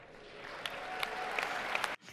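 A large crowd applauding President Trump's inauguration speech, a steady wash of clapping with scattered sharper claps and cheers, heard from a distance, cutting off abruptly at the end.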